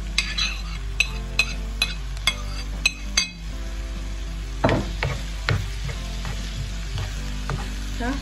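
Eggplant, onion and other vegetables frying in a pan, a steady sizzle with repeated clinks of a utensil stirring against the pan, then louder scraping strokes.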